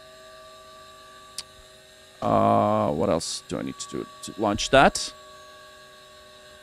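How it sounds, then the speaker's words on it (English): Inside a Bonanza light aircraft cockpit, a spinning-down gyroscope gives off a steady, faint tonal hum with several fixed pitches, running throughout while someone speaks briefly partway through. "Like what you hear is the gyroscope spinning down."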